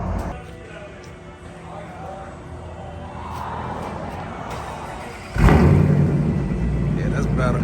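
A 2021 Dodge Charger R/T with a mid muffler delete rumbles at idle, then its engine jumps to a sudden loud rev near the end, with someone talking throughout.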